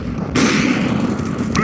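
A flashbang grenade goes off in Counter-Strike with a sudden loud burst that decays into a harsh ringing wash, followed by a brief faint noise near the end.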